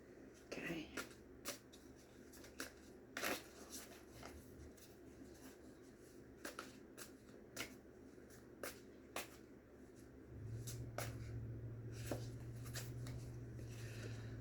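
Cat tarot cards are shuffled in soft, papery bursts of riffling and sliding, intermittent and close, with someone speaking quietly between the shuffles and a low hum entering near the end.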